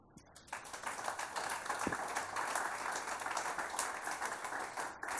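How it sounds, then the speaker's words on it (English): An audience applauds guests at a design masterclass, a sustained wash of many hands clapping at moderate level that builds slightly and holds steady for several seconds with no talk over it. "So a little round of applause for our guests."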